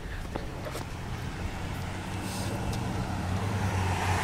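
A car passes on a rain-soaked road, its wet tyre hiss swelling steadily and growing louder toward the end, heard close by from the roadside during rain.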